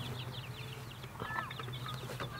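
Backyard chickens in a small chicken tractor with a tarp and heat lamp, clucking and murmuring continuously at close range over a low steady hum.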